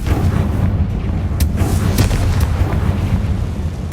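A Confringo fire spell in Hogwarts Legacy bursts with a heavy, sustained booming rumble, loud and dense, with a few sharp crackling pops scattered through it.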